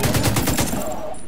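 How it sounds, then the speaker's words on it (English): Rapid automatic gunfire from The Division 2 on PS4, a dense burst of evenly spaced shots, loud and close, that tails off within about a second. "he's shooting so much at me"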